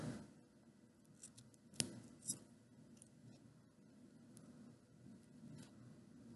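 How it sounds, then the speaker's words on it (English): Scissors snipping through a Barbie doll's synthetic hair, a few soft close cuts with two sharper snips standing out against a quiet background. "go ahead and cut all this Barbie doll's hair off"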